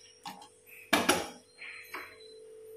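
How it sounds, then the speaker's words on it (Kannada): A metal cooking pot holding chicken is set down on a gas stove, giving a few sharp clanks and clinks close by, with quieter knocks before and after and a faint steady hum underneath. "ಈಗ ಇದನ್ನು ಗ್ಯಾಸಲ್ಲಿಡುವ"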